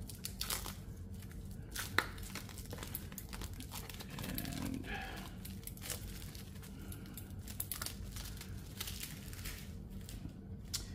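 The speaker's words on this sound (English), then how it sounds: "you can start to unwrap this" Sticky protective wrap being peeled and crinkled off a machined wooden piece, a steady close run of crackling and rustling with brief tearing snaps, and no one talking.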